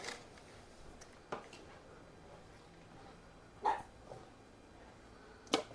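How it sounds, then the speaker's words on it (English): A small dog in a kitchen barks to be let outside, giving a few short, sharp yips spaced seconds apart, fairly faint against quiet room noise. "Yeah, there's a little dog."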